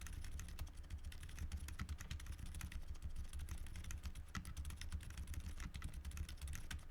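Fast, continuous typing on a keyboard with TTC silent mechanical switches, soft, muted keystrokes in a dense patter of quiet clicks with no pauses.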